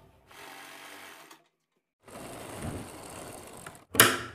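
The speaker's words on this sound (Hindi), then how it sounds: "यहाँ पर जो हमने काली पट्टी लगाई है इसके बीच में इस तरह सेट करके सिलाई से इसको लगा देंगे।" A sewing machine stitches lace onto a kurti sleeve in two steady whirring bursts separated by a brief pause, close and clear, ending with a sharper mechanical clack.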